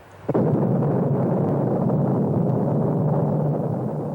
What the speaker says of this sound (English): they had just created the world's first thermonuclear explosion